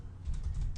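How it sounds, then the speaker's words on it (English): Fingers type on a computer keyboard in a brief run of soft close clicks under a low room hum. "So let me type it for you."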